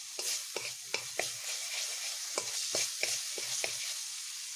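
Garlic and onion fry in a pan, a steady sizzle broken by repeated scraping clacks of a spoon stirring at an uneven rhythm, close and alone with no talk.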